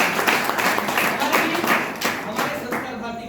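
Audience at a theatre workshop claps in a burst of applause that swells and then tapers, heard alongside a speaking voice.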